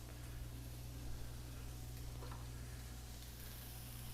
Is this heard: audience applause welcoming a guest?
no